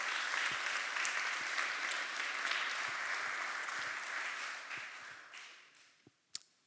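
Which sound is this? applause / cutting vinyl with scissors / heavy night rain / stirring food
applause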